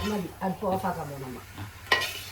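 Chicken liver fry, finished with coriander leaves, is stirred in a pan with soft sizzling and a sharp scrape of a spoon near the end, while a voice talks briefly at the start.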